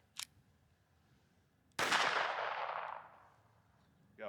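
A Ruger LCP-2 .22 pistol fitted with an upgraded Galloway spring fires one light-strike Winchester Wildcat round: a sharp, loud crack with a ringing tail that fades over about a second. A small click comes before it and a mechanical rattle follows.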